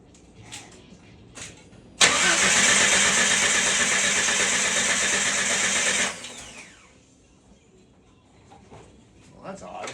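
A Jeep Wrangler under restoration cranks loudly for about four seconds in one continuous grinding burst without catching. Speech is heard before and after the cranking.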